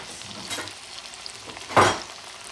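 Green plantain slices going into hot oil for Puerto Rican cooking, a soft continuous sizzle with a louder splash-and-hiss burst near the end as more pieces hit the pan.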